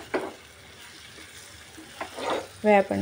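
Chicken liver frying in a pan with chopped coriander, a low steady sizzle with a few brief stirring scrapes and a louder clatter near the end.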